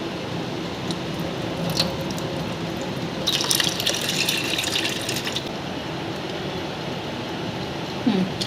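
Steady pouring water splashing into a container of lentils, a continuous liquid gush with slight surges, close by.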